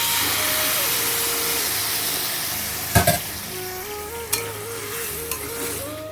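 Water hits a sizzling egg and potato curry in the pan, producing a loud continuous hiss and steamy frying with a few sharp clatters from stirring, no voices.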